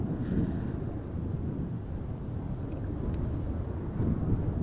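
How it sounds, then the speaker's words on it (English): Wind blows at Amsterdam Schiphol Airport, a steady low rumbling roar of gusts buffeting the microphone, loud and continuous with no clear separate sounds on top. "still a bit windy. Not a full-blown storm."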